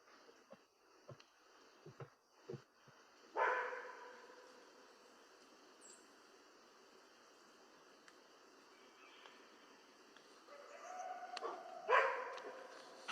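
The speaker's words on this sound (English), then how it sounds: "That's a dog." A dog barks in a played-back recording, with a few short sharp barks early on followed by louder, longer outbursts, all fairly faint over a quiet hiss.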